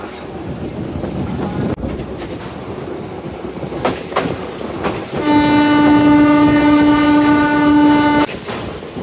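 A Narayanganj commuter train in Bangladesh, running on Turag commuter rolling stock, rumbles steadily along the tracks with rhythmic clatter, then a loud sustained horn blares for a few seconds before the rolling noise continues.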